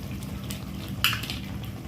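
Mushroom curry masala with salt being stirred in a pan, a low simmering hiss with one sharp metallic clink of a spoon against the pan midway and no talk.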